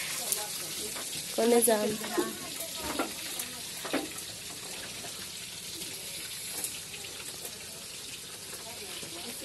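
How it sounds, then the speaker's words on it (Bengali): Fish frying in a pan in a village kitchen, a steady hiss of sizzling oil running throughout with a few clatters and splashes of water, while people talk nearby. "মাছ ভাজি দিছে না?"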